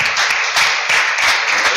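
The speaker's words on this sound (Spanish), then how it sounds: "Den un fuerte aplauso" A church congregation gives a loud burst of applause, continuous, close-sounding clapping filling the space without pause.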